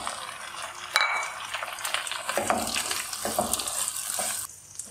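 Chopped tomatoes sizzle and hiss in a hot pan with spice paste while being stirred, a steady close wet crackle with scraping bursts and a sharp clatter near the start, fading out at the end.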